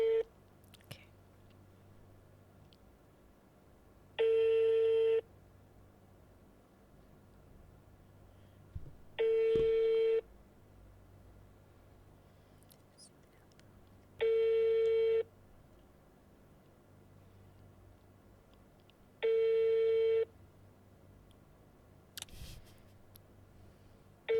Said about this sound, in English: Let me try and call my best friend.